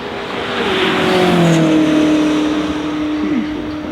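A Koenigsegg Jesko Absolute hypercar drives flat out up a hill, its engine rising loud and close in a sustained high-pitched howl, with a quick pitch swoop near the end.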